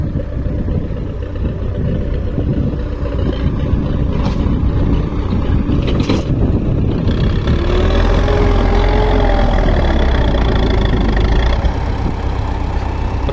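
YuMZ-6 tractor diesel engine idling in a farmyard after rain, a loud continuous close-up rumble that holds steady throughout, with a faint whine rising near the end.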